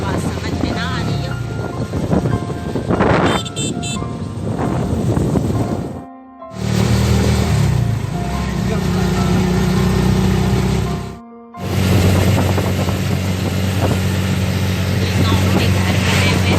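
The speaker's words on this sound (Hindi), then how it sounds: "रिक्शे की आवाज़ की वजह से आपको शायद मेरी आवाज़ समझ में ना आ रही हो" An auto rickshaw engine drones loudly and steadily while riding through a village past fields, with wind buffeting the microphone and someone talking over the noise; the roar briefly drops away twice.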